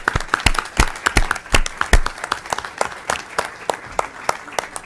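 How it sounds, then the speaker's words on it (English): Scattered clapping from a small crowd at a state Senate finance committee hearing, irregular and lively, continuing steadily for several seconds. "Can we just give them a warm round of applause?"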